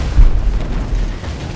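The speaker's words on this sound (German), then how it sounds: "wir brauchen eine größere Explosion" A deep explosion booms in the Tomb Raider video game, a loud low rumbling blast that swells early and then rolls on with a heavy, sustained roar.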